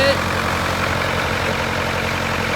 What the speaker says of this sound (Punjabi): ਜਨਰੇਟਰ ਦੇਖੋ ਆਪਣਾ ਚੱਲੀ ਜਾਂਦਾ